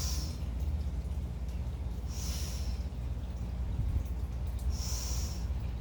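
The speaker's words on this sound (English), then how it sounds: "Inhale halfway and exhale." Three breathy exhales from a person doing Pilates leg circles outdoors in a backyard, spaced a couple of seconds apart over a steady rumbling background.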